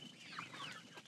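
Chickens cluck softly throughout a chicken house on a farm, a steady low murmur of fowl with a few brighter calls rising above the background.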